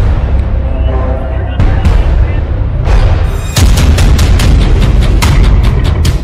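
Bombs and missiles exploding in airstrikes on Yemen, a loud continuous roar of blasts and rumbling booms with a rapid run of sharp cracking detonations toward the end.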